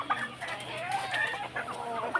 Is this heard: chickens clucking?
yes